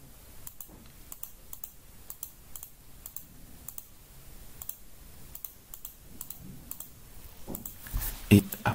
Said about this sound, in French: je clique là-bas.